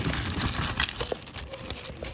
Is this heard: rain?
no